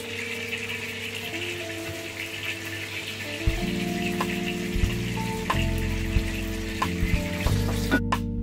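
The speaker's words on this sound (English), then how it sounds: "So I'm gonna saute here so it will give us taste." Pork shoulder bones sauté in a pan for pancit canton, a soft crackling sizzle that thickens after a few seconds, with low humming tones and occasional utensil clinks, close and moderate, no voices.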